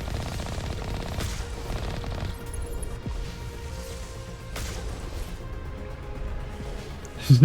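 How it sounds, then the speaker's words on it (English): Colossus gunfire in Mass Effect on the planet Ilos, a dense, rumbling barrage of heavy shots and impacts under a continuous game soundtrack, with a louder burst at the very end. "Barely avoided that last shot. Trust me, you don't want to get hit by too many shots from those colossuses"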